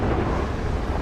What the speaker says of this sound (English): You can hear the thunder now.